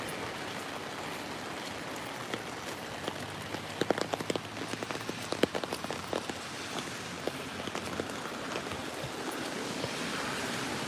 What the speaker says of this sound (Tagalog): Ay, maulan na umaga.